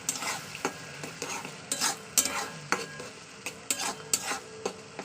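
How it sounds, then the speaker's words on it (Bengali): Spice masala sautéed with onions in a pan for an egg curry, with broadband sizzling and repeated scraping stir strokes at an irregular rhythm, close and fairly loud, no voices. "এবার দিয়ে ভালো করে পেঁয়াজের সঙ্গে কষিয়ে দেবো"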